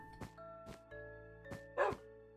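Wolf barks from a Minecraft game, several short sharp woofs spaced through the moment with a louder, brighter bark near the end, heard over steady background game music tones.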